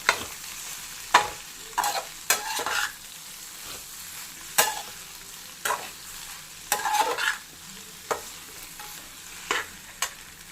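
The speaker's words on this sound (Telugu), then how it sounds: "పన్నీర్ వేసి ఒక 2-3 నిమిషాలు ఫ్రై చేయండి." Paneer frying in a pan, with a steady sizzle broken by repeated scraping strokes as the pieces are stirred, close and moderately loud and with no talking.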